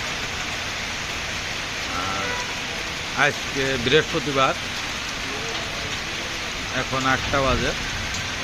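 Rain falls steadily on a night street lined with parked cars, a constant broadband patter throughout while someone talks over it in short bursts.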